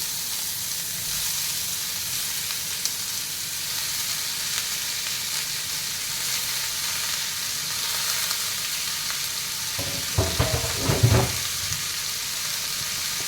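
Chopped bitter gourd frying in a pan gives a steady hissing sizzle throughout, with a burst of louder crackling and stirring clatter toward the end, heard close and without speech.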